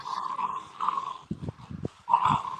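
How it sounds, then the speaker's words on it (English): Pet dogs play together, giving short low growls and rough grunting bursts up close, broken by brief pauses over a steady background hum. "my dogs are playing"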